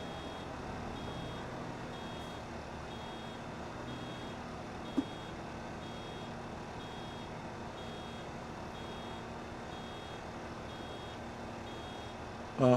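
Repeated evenly spaced electronic reversing beeps from a vehicle in the Farming Simulator 25 video game, faint and steady over a low engine hum throughout.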